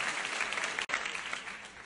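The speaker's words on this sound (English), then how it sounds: "Y'all clap your hands for the queen." A comedy festival audience gives a short burst of loud, even applause that cuts out for an instant midway and then carries on.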